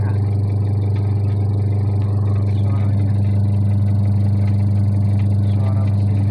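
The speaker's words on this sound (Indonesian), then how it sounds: "Suara mesinnya masih halus." A repaired washing machine motor runs with a steady, smooth low hum and even whir, loud and close throughout.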